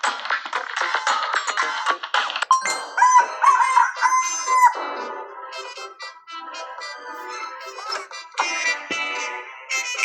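Chickens cluck and a rooster crows repeatedly, bright and close, in a busy overlapping chorus of fowl calls with no talking.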